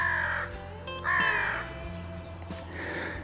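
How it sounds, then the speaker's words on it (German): Crows caw in harsh, rasping calls, three bursts spaced across a few seconds on a hot summer day, fairly loud against a quiet outdoor background with a low hum. "und dann fangen noch die Krähen zum Kreischen an"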